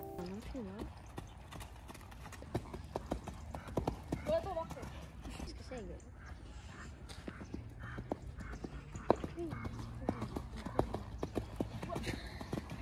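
A horse trots over ground poles in a riding session, giving steady close hoof clip-clops with a brief whinny, while a person talks throughout.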